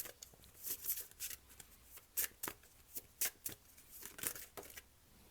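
Tarot cards being shuffled in a series of quick riffling and snapping bursts, close and fairly quiet, with short pauses between flurries and no talking.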